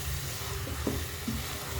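Vegetables with spices sizzle in a pan as they are stirred, giving a soft, steady frying hiss with a few faint scrapes, quiet and close, with no voices.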